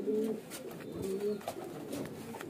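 Pigeons at a pigeon sale coo steadily in low, rolling, overlapping calls, close and moderately loud, with no voices over them.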